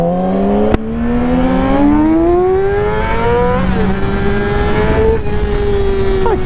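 A motorcycle engine revs up loud and close through rising gears, with a brief click near the start and a steady climbing whine that shifts pitch as it accelerates.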